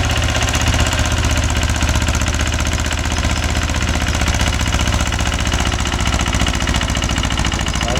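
A Mahindra 265 DI tractor's diesel engine runs steadily under load while driving a 36-blade GAS rotavator, a loud, continuous rumbling drone with a fast regular knock that holds even throughout, with no talking.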